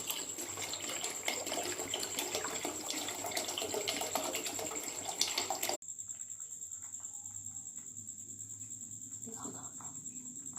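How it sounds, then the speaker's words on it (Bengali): Water is poured into a pot of cooking khichuri in a continuous splashing stream for about six seconds, then drops abruptly to a quieter trickle and simmer, close by. "একটু টাইট করবো, তাই জন্য আর একটু অল্প করে জল দেবো।"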